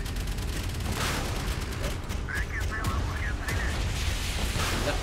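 Nuke explosion in the mobile shooter Modern Ops, heard as a dense, continuous rumble of blasts and gunfire-like bursts that fills the whole stretch, with a voice speaking faintly over it.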